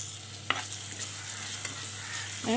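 Crushed, finely chopped onion frying with coconut in a pan for a squid dish, a steady close sizzle with a few distinct stirring scrapes and a louder scrape at the end, no voices.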